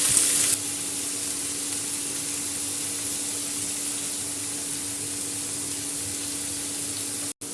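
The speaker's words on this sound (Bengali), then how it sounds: "অন্যদিকে লাউয়ের খোসাটা ভাজা হচ্ছে" Bottle gourd peel frying with onion in a pan, a steady close sizzle that runs without a break from start to end, with a faint low hum beneath it and a sharp brief click near the end.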